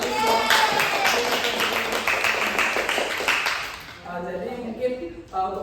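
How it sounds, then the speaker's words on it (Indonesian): Students in a classroom give a burst of clapping for a group that has just presented. The clapping is dense and lively for about four seconds, then fades as voices talk over it. "tepuk tangan untuk kelompok 1"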